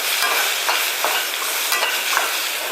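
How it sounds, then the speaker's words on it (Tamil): Jackfruit pieces sautéed in a pan for Palapala payasam, giving a steady close sizzle with soft stirring scrapes that recur several times over the continuous frying hiss. "1 நிமிஷம் இந்த பலாப்பழத்தை நம்ம வதக்கி எடுத்துருவோம்."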